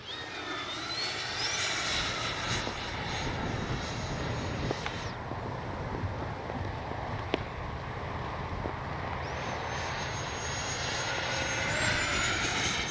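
An FMS 70mm Yak 130 RC model jet flies under a clear blue sky, its steady ducted-fan whine rising and falling as it passes, continuous and fairly distant over outdoor ambience.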